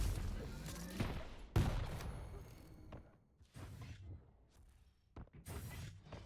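Railgun shots in a Quake Champions duel tournament match, several sharp blasts with whooshing tails amid busy game action, one loud crack standing out early on.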